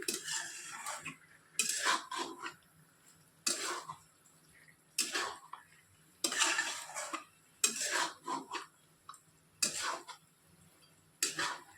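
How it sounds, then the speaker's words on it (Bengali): A ladle scrapes and clanks against a pot while mutton curry with potatoes is stirred and fried, sharp metallic strokes coming in irregular bursts with quiet pauses between them. "আবারও ভালো করে কষিয়ে নিচ্ছি"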